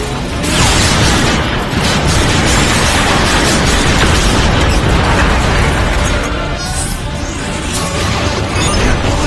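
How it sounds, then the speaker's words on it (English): A grenade goes off in the Transformers: Fall of Cybertron video game, a loud, booming blast with heavy rumble and clattering debris that stays dense and roaring for several seconds amid ongoing battle noise. "Stupid grenade!"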